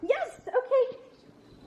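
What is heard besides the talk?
dog barking on command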